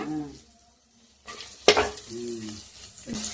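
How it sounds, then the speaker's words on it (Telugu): Tomatoes and curry leaves fry in a pan with a quiet sizzle, a sudden sharp crackle as they are stirred, and faint voices murmuring in the background. "టమాటాలు బాగా మెత్తగా అయ్యే వరకు వేయించుకోవాలి."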